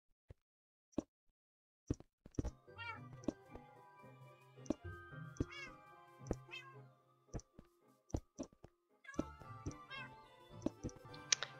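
Pet cats in Minecraft survival (version 1.16.4) meow repeatedly and close up, in several separate calls that sometimes overlap, mixed with sharp isolated clicks from keyboard or mouse.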